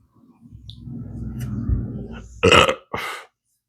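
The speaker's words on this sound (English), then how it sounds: "Excuse me, pepper burp." A long, low guttural burp rises and rolls for about two seconds after eating very hot peppers, Apocalypse Scorpion and Chocolate Primotalii, then a few short breathy mouth noises follow, close to the microphone.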